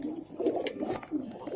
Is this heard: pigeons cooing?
yes